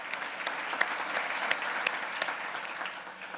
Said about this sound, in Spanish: Pido un aplauso para el superintendente.